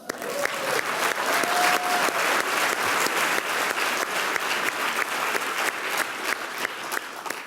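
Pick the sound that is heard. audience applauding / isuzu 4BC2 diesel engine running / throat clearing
audience applauding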